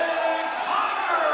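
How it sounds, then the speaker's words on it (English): Basketball crowd at a John A. Logan men's college game against Lake Land College erupts in loud, sustained cheering after a steal and dunk, a dense roar filling the whole moment with a commentator's voice over it. "The crowd is going nuts on the Logan bench."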